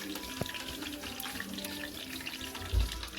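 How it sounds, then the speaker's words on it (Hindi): Burger patties fry in hot oil with a steady, crackling hiss that holds throughout, plus a soft low thump near the end and no talking. "अभी हमने पैटी ऑयल में डाल दी है, अभी ये पकती है"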